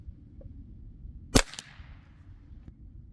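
A single quiet gunshot from a Henry AR7 rifle firing CCI Quiet .22 ammunition, one sharp close crack with a brief trailing echo over low background noise.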